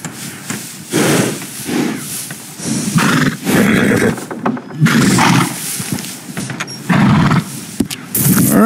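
An Ardennes war horse in Red Dead Redemption 2 gives a string of loud, close neighs and whinnies, separated by short snorting pauses.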